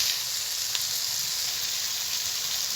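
Spices and chopped tomato sizzling in oil in a pan for ghugni, a steady, bright, hissing fry that stays even throughout with no voices.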